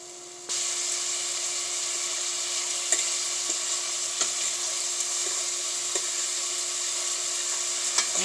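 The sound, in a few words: sauteing celery, onion and garlic in a pan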